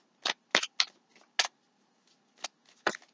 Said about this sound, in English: Let's give it a couple shuffles and take a couple cards right over top of them.